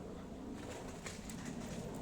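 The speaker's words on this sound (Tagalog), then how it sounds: "Ang daming ibon ah." Low, soft cooing of doves or pigeons repeats steadily over a muffled outdoor background, with no one talking.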